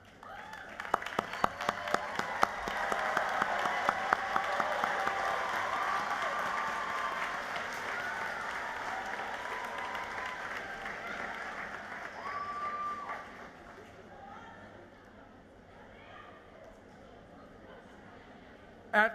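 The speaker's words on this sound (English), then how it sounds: "Graduates, please rise and join me in applauding your loved ones." Graduates at a college commencement rise and applaud their families, opening with sharp individual claps that swell into a long, steady roar of crowd applause, fading after about thirteen seconds to low murmuring and a voice.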